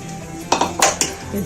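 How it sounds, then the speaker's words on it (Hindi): Two eggs being beaten in a bowl for chicken soup, a quick cluster of sharp clinks and scrapes of utensil against the bowl that trails off into quieter stirring. "अब इसमें हम तकरीबन 2 अदद अंडे लेंगे, बस उनको अच्छे से फेंट कर इसमें शामिल करेंगे।"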